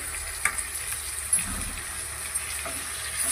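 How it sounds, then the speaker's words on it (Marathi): Golden-brown onions and chopped tomatoes sautéing in a pan for a street-style egg dish, with a steady close sizzle and a few faint clinks of stirring. "तर आपण आता त्यामध्ये हे चॉप केलेले टमाटे टाकून घेऊ।"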